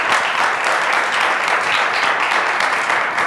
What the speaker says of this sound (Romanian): Aplauze pentru Adelina, pentru Marius Sarciu.